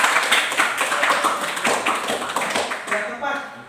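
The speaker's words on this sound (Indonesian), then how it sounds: "Iya, beri tepuk tangan yang meriah buat kami." Classroom applause during a physics lesson on mechanical waves, with many hands clapping in a dense, irregular patter that runs steadily throughout. Voices mingle underneath the clapping.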